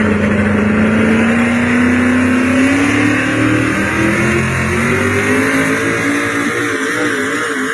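A pulling truck's engine revs hard at a truck pull in Gardnerville, a loud sustained roar that climbs steadily in pitch as it accelerates, with no talk over it.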